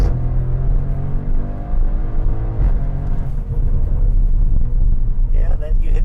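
An Audi RS7 pulls away hard under launch control on Marine Drive, its engine rumbling loudly and climbing through revs as it accelerates, with voices talking over the car noise.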